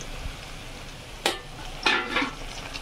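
Chickpeas for chana masala frying in a pan: a soft, steady sizzle runs throughout, broken by two or three brisk scraping stirs of a spoon against the pan.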